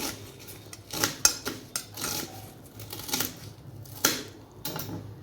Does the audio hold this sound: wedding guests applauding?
no